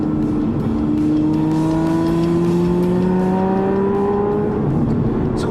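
Aston Martin V12 Vantage S with Bamford Rose tuning, over 600 bhp, revving hard under full throttle, a loud continuous engine note with rising pitch that holds steady throughout with no talking.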